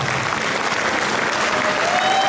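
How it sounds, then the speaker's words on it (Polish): A crowd at a municipal anniversary celebration in Pakosław gives loud, sustained applause to ask the performers for an encore. The clapping stays dense and steady throughout, with a faint tonal whine running beneath it. "to może jak zrobicie aplauz."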